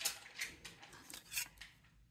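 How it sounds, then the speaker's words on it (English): Small scissors snip through thin beer can tin in a series of crisp, quiet cutting strokes, about five separate snips at an uneven pace with nothing else heard. "I'm using smaller scissors because it's easier to cut them accurately with the small scissors"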